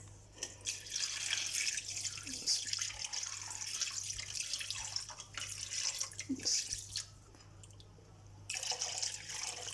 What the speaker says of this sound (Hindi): तो साफ़ पानी लें, उससे धो लें।